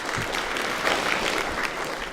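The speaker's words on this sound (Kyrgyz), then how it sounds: "Бали, эжекебизге бир кол чаап койсок" An audience at a youth gathering applauds, a steady crowd of hands clapping together in a dense continuous patter that holds at an even level throughout.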